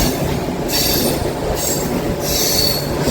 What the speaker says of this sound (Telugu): సింగిల్ లైన్లో parallel running, goods ట్రైన్తో parallel running.